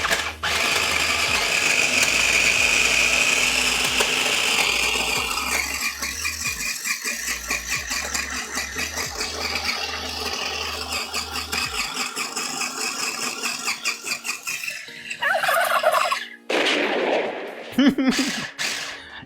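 A kitchen blender runs loudly for about fifteen seconds, a dense whirring roar that steadily shifts pitch, then cuts off and is followed by a few clattering knocks.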